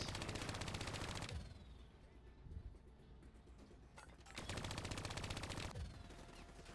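Call of Duty: Black Ops 3 campaign combat: sustained rapid automatic gunfire in two long bursts with a quieter stretch of scattered shots and battle noise between, heard at moderate level.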